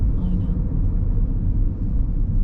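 A car engine with a CVT transmission roars loudly and steadily at about 40 km/h, a constant low droning rumble with no clear gear changes, heard from inside the vehicle.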